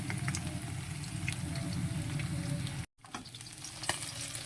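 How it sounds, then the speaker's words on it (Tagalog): Oil sizzles and crackles steadily as food fries in a new non-stick pan, with a brief gap in the middle before the frying continues. "simpleng preto lang yan"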